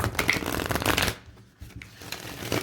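A tarot card deck being shuffled, a dense run of crisp riffling card flutters up close, then a short lull before softer handling resumes.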